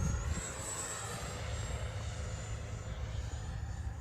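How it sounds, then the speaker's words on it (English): An H-King Viper64 RC jet, driven by a single 64 mm ducted fan, flies past with a steady high-pitched whine over a broad rushing hiss. The sound is fairly loud and holds constant throughout, with no talk. "it's a cool jet"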